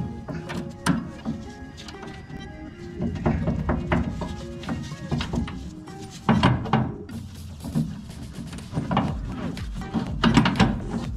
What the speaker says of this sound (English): So now we're gonna go ahead and compress the spring.